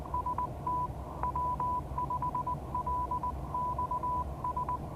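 Morse code CQ call sent as a steady mid-pitched tone in quick dits and dahs, repeating in a clear rhythmic pattern over a faint background hiss, with no talking.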